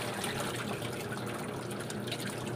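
A washing machine drains water with a steady rushing, gurgling flow that runs continuously at moderate level without pauses.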